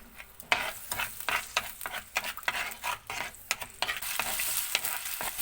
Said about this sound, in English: Cook the ginger garlic paste for 2 minutes.